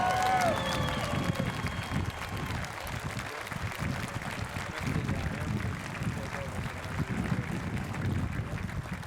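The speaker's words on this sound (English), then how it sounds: "Round of applause." A crowd applauds and cheers outdoors at an Armed Forces Day parade in Torrance, California. Clapping is loud and sustained for several seconds, with voices talking underneath.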